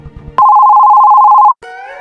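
A single loud, steady telephone ring tone sounds for about a second, then cuts off and gives way to a fainter tonal sound, with brief low knocking just before the ring.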